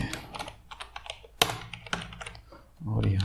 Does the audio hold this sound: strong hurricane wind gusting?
no